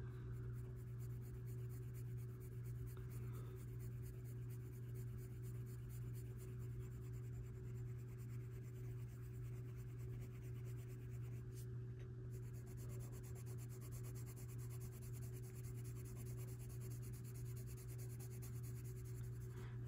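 Faber-Castell Polychromos colored pencil rubbing across paper while coloring oak leaves, a steady soft scratchy stroking that continues close and quiet throughout with no talk.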